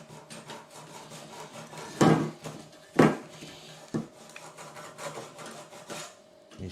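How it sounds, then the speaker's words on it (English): A Vixen file drawn along the edge of an aluminium horizontal stabiliser for a Sling TSi, taking off burrs with soft, rasping scrapes and a few sharper knocks and strokes at intervals. "use the Vixen file for this on the smoother side, and I'm just going to hold it down and just run it along"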